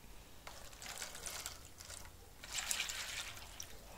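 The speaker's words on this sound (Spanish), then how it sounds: "Vamos a colocar medio litro de agua." Half a litre of water poured into a small plastic container, a faint trickling and splashing with light clicks of the container, quiet and close with no talk.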